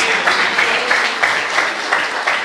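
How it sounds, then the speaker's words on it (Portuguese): Applause from a church congregation, a steady dense wash of many hands clapping with no talk over it. "Então aplaudam, por favor, o seu irmão, a sua irmã."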